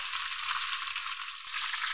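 Pork leg (pata) frying in its own rendered fat, giving a steady, close hiss of sizzling grease with no voices.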